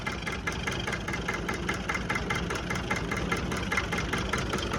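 A Hinomoto E23 small farm tractor engine idles steadily nearby, a continuous mid-pitched diesel chug with an even, rapid knocking rhythm and no voices over it.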